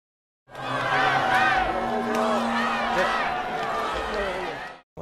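A crowd of mourners at a memorial for former president Roh Moo-hyun shouts and boos in protest at a conservative party leader, a loud, continuous swell of massed voices and yelling from start to finish.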